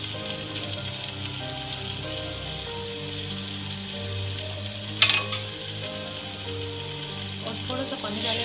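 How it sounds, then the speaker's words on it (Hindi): Ground spices frying with softened tomatoes in a pan for Landi Kotal style bhuna gosht give a steady, close hiss and sizzle, with one sharp clink partway through and no talking. "अब इसमें ये मसाले डाल देंगे।"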